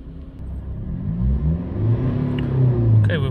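A Mitsubishi L200 with an overloaded DPF and fault codes revs up close by, its engine note rising and swelling into a steady, throaty climb.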